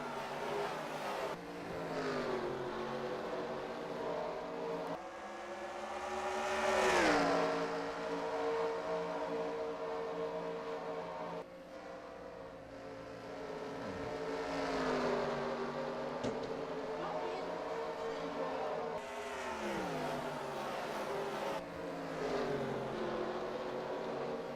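Several stock cars roar around Richmond in NASCAR Racing 2003, a steady loud engine drone with rising and falling pitch sweeps as cars pass and shift, continuous throughout with no talk.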